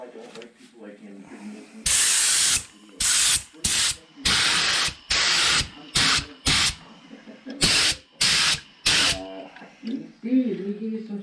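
Repeated bursts of spray-gun hiss as paint is sprayed on a rust-repaired car, each lasting about a second with short gaps, loud and close, separated by quiet moments with faint talk.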